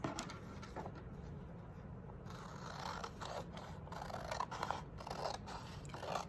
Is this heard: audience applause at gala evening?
no